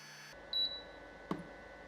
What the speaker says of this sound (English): Beeps are loud but can be muted by holding the control knob for 5 seconds.